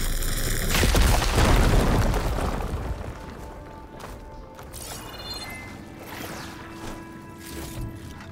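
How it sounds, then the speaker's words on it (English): A fire gleam canister blows up in Horizon Forbidden West with a loud, deep boom followed by a rumbling crash and debris, fading into crackling mechanical rattles and faint ringing tones. "Should be able to blow up that fire gleam"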